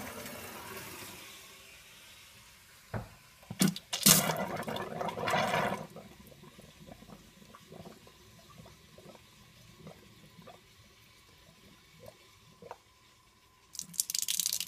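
Water gushes briefly through a pipe into a reverse osmosis system, then trickles and drips quietly in a steady, irregular pattern, with another surge of flow at the very end.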